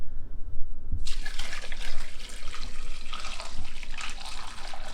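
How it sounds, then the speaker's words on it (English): Coffee poured into a pot through a cheesecloth-lined strainer, starting after a second of quiet as a loud, steady splashing stream that runs continuously to the end. "first I'm going to pour some into a pot"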